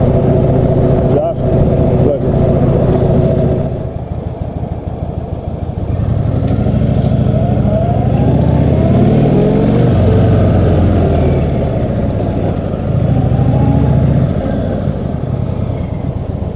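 An Indian Chieftain motorcycle engine hums steadily while riding, heard on board as a moderate, even drone with occasional pitch changes, beneath someone talking.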